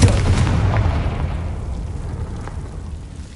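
Confringo fire spell explosion in Hogwarts Legacy, a heavy booming blast up front that rumbles and fades away over a few seconds before a faint new hit at the end.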